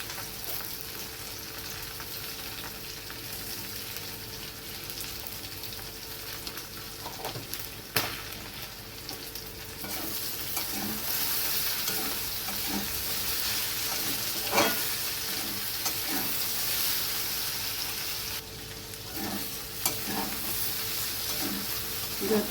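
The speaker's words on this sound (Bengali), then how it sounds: "যতক্ষণ না ভেন্ডিটার মধ্যে একটা লালচে ভাব আসছে, ততক্ষণ এইভাবেই আমি খুন্তি দিয়ে নাড়বো।" Okra stir-fried in a pan and turned with a metal spatula: continuous sizzling with repeated scraping and clinking strokes, close and steady throughout, no voices.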